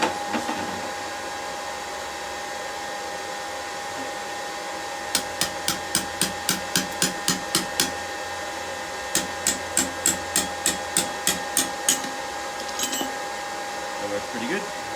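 A blacksmith hammers a chisel into hot steel while forging a BBQ toasting fork, landing two quick runs of about a dozen sharp, ringing metallic strikes over a steady background hum.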